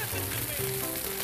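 A frying pan sizzles steadily as vodka is added to wine in the pan alongside chicken, a constant bright hiss running beneath a voice talking throughout.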